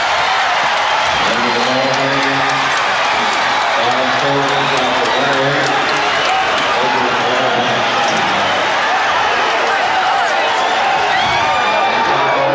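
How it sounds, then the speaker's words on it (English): A Forum arena crowd roars loudly and continuously as the Chicago Bulls clinch their first NBA championship over the Lakers in the 1990s Finals, a broadcast commentator talking over the noise. "The Bulls greeted by a portion of this Forum crowd as they try to get back to their locker room"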